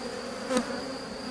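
Honeybees crowded into a small nucleus hive box heavy with honey and pollen give off a steady, close buzzing, with one brief louder swell of wings midway.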